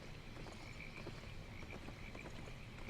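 Frogs croak in the Albion Online video game, a steady, dense chorus of overlapping calls running throughout at moderate level, with no talking.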